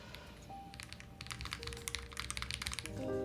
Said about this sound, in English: I do think there's a silicone sound signature underlying on the keyboard.